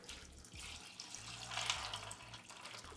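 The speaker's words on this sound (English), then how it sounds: "let's go ahead and cover this all in water and get it boiling" Water from a tap pours into a pot to cover mushroom dowel plugs before boiling, a faint, steady splashing stream with a low hum underneath.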